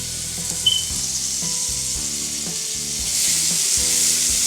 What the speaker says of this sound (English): And just to swish it around for it to saute like a minute